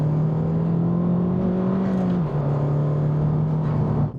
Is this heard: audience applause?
no